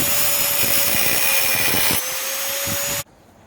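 A power tool cutting steel plate for a Mercedes Sprinter van spare wheel bracket, a loud continuous high whine and grind that steps down in level partway through, then cuts off abruptly near the end.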